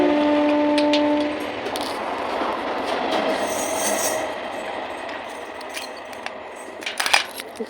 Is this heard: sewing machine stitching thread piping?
no